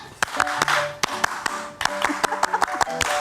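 A group performs the Indonesian scout clap pattern (tepuk pramuka), crisp close hand claps in rhythmic clusters of ones, twos and threes, with faint voices underneath.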